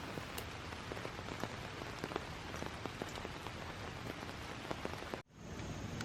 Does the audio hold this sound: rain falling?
yes